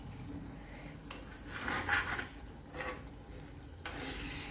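Raw coconut oil is poured and curry leaves go into a fish curry of sardines in a pan, giving a soft, close sizzle and stirring scrape with brief swells and no talking.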